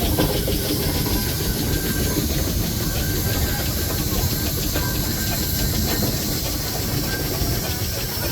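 A steam showman's traction engine, Orchard, built in Northampton in 1907, gives off a loud, steady, unbroken hiss throughout as it moves in a parade.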